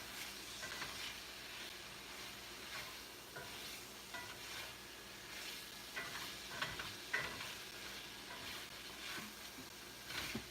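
Taco beef filling sizzles steadily in a pan while being stirred, a continuous frying crackle with scraping stirring strokes throughout, fairly quiet and close, with no talking.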